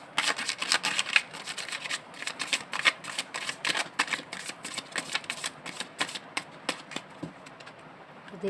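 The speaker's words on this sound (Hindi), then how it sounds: "ये लग रहा है थोड़ा शफल और करना चाहिए।" Tarot cards are shuffled by hand in a steady run of quick, papery riffling flicks, close and fairly loud, easing off near the end.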